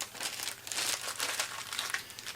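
A plastic bag sealing a Sony projector remote control crinkles close by, quiet irregular rustles and crackles over a couple of seconds.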